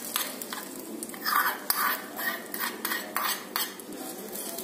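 A spoon stirs South Indian coconut chutney in a bowl, giving soft repeated clinks and scraping knocks in uneven bursts over a faint background hiss.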